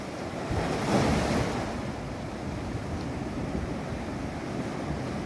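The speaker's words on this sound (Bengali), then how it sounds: "উত্তাল সমুদ্র একদম" A rough sea at Bakkhali beach crashes in with a continuous broad roar. One louder surge comes early, then a steady wash of surf mixed with wind buffeting the microphone. No one speaks.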